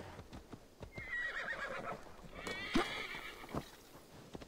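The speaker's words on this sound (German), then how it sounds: "Pferdchen." A horse in Assassin's Creed Valhalla gives a clear, drawn-out whinny near a settlement stable, with soft hoof clops and snorts around it and no talk.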